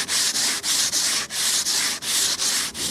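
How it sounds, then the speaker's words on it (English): A boat hull is hand sanded with a sanding board in about nine steady back-and-forth strokes, each a close, loud, rasping scrape with brief dips between them. "Doing a mixture of sanding, a bit of hand sanding with the board"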